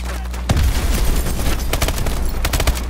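Gunfire and explosions from the video game Call of Duty: Advanced Warfare: loud, close bursts of rapid shots and booming blasts, densest around the first half second and again near the end, with a steady low rumble underneath.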